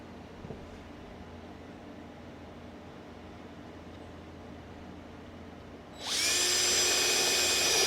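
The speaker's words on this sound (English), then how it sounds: "I'm going to use a stepper bit to drill these holes" A stepper bit drills holes for a Winlink radio go-box built around a Motorola CDM-750. Quiet room hum comes first, then a loud, steady high-pitched power-drill whine kicks in and holds to the end.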